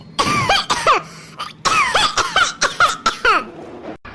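A person coughs in a rapid series of harsh, loud bursts, several fits close together over a few seconds, sounding like a hacking whooping-type cough from a cold.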